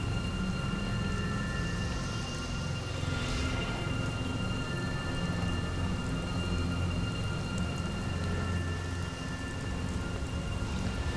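Steady rain falls throughout, a continuous wash of drops on a surface with a faint low rumble beneath, with no talking.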